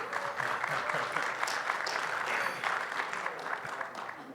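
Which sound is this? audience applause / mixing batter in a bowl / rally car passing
audience applause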